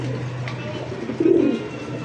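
A pigeon gives a low, soft coo partway through, brief and close, over a quiet steady hum.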